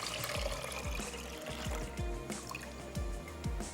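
Water is poured into a cooking pot in a kitchen during karahi preparation, a close, continuous splashing and gurgling pour with a few rising glugs.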